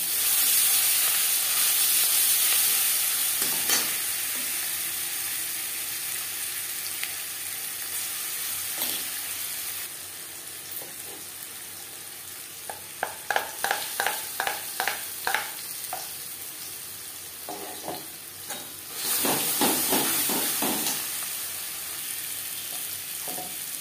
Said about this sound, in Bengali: লঙ্কার সাথে পাতা বাটা বেশ ভালো করে মিক্স করে দেব।